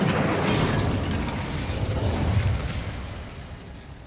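Fiery burst from an Incendio spell cast against goblins in the Hogwarts Legacy video game, a loud, sustained roaring whoosh that stays dense and steady before slowly thinning toward the end.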